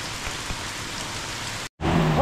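Heavy typhoon rain pours in a steady, dense roar, loud and close, broken by a brief dropout before resuming with faint voices underneath.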